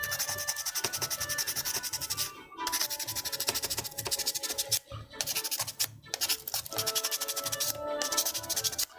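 Steady back-and-forth rubbing of a sanding sponge or sandpaper across a surface, continuous and close with a few brief pauses, no talk.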